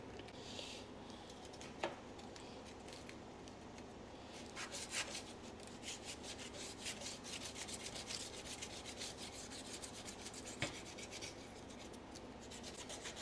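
Foil soaked in Coca-Cola scrubs rust off chrome in quick, faint, repeated rasping strokes, steady and close with a few sharper knocks.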